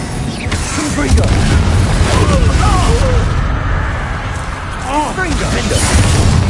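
Confringo blasting spells in Hogwarts Legacy explode with heavy, continuous booming crashes, while a player's voice shouts over the rumbling battle noise.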